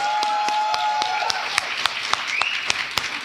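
Audience applause for a music and storytelling panel, sparse sharp claps over a continuous wash of clapping, with a faint tonal hum and squeal underneath.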